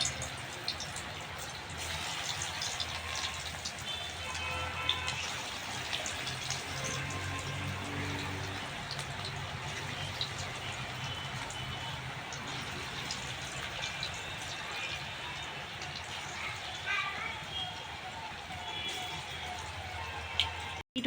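Small lentil fritters fry in hot white oil, a continuous close bubbling sizzle with fine crackling spatter that holds steady throughout.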